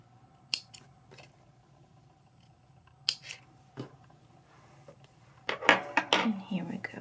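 Scissors snip through crochet yarn while a granny square is being made, a few faint, sparse snips early on, then a louder flurry of close cutting and handling sounds near the end, with quiet talk.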